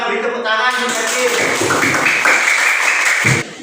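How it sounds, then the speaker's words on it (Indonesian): A classroom of students claps for their classmate Kevin, giving a loud, close, continuous patter of hands that stops abruptly at the end. "Coba kita beri tepuk tangan untuk Kevin."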